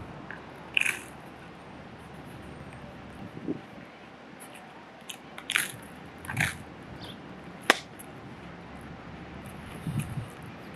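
Several crisp, crunchy bites and chewing sounds of pizza crust, close up, in short irregular bursts separated by quiet pauses.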